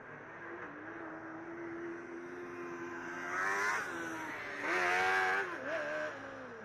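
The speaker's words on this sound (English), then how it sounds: "The car from Moscow has a supercharger and it's making all sorts of interesting noises." A supercharged Formula Student race car engine drones at a steady pitch, then revs up in several rising surges with a whining harmonic edge, heard from a moderate distance at an autocross event.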